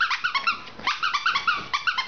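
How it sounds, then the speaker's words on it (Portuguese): A dog growls playfully while tugging at a toy, a quick string of rising squeaky, throaty growls in short close bursts, loud and alone. "Eita, cachorro louco."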